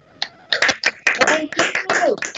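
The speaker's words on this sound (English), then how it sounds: "with a big hand of applause" Scattered hand clapping from a small class audience, a handful of sharp separate claps building into a brief ragged patter, close and fairly loud.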